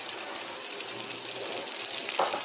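Onions cooking in rendered fat from collard greens preparation, a soft continuous sizzle at low level with a brief brighter clink or splash near the end.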